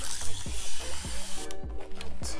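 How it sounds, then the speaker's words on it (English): A plastic spray bottle mists water onto textured type 3/4 hair during wet-look styling, giving a few short, close hissing bursts over a low background rumble. "of course I'm spraying my hair with water."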